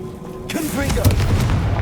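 A Confringo blasting spell goes off in the video game Hogwarts Legacy: after a quiet hum, a sudden loud boom bursts in and settles into a sustained low, crackling rumble, with brief voice-like tones over the start of the blast.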